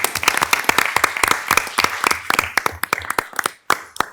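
Audience at a Serve Dubuque update meeting breaks into applause, dense close clapping that runs continuously and then thins into scattered claps before tapering off.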